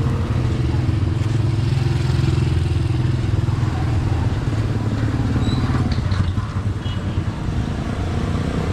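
A new Mio 125 motorcycle runs close by with a loud, steady low engine drone that continues without a break, along with faint background clatter.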